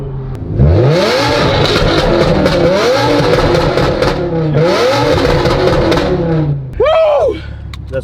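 A green BMW E60 M5 with an upgraded exhaust revs loudly and close by, in repeated rising and falling bursts, while people talk and exclaim over it.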